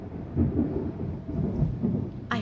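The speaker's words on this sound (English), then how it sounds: "We're having a big thunderstorm tonight." Deep, continuous rumbling thunder rolls through a big nighttime thunderstorm, loud and sustained with swelling peaks, ending in a brief sharper crack.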